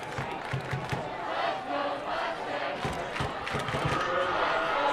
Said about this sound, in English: Pretty good crowd here tonight in Hyrum